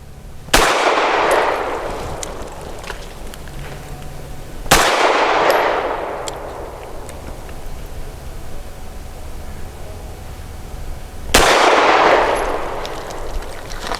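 Three sharp, loud pistol shots at an outdoor shooting range, spaced several seconds apart, each followed by a short ringing echo over steady background noise.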